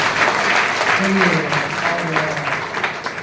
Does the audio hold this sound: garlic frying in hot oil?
no